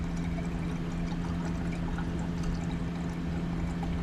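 Fluid pours steadily into the head of a John Deere engine bought at auction, a continuous gurgling trickle with a low steady hum beneath it, close and unbroken throughout.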